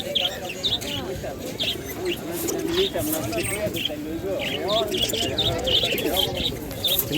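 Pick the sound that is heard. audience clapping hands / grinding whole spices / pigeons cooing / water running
pigeons cooing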